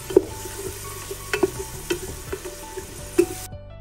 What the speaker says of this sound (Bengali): তারপর আমার কুচি করা পেঁয়াজগুলো দিয়ে দিচ্ছি। এখন এগুলোকে ভালো করে নেড়ে চেড়ে কিছুক্ষণ অপেক্ষা করব।